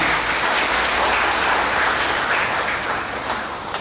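Applause from a church congregation at a Christian fellowship gathering, a dense, even wash of clapping that holds steady throughout and tapers slightly at the end.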